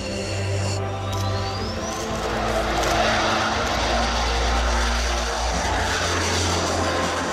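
A pilotless fighter jet flies on its own, its engine roar loud and steady throughout with a faint rising whine near the start.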